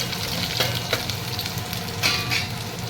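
Garlic sizzles in hot oil with mustard seeds and cumin, a steady dense frying hiss with occasional louder crackles and stirring scrapes, close and continuous with no talking.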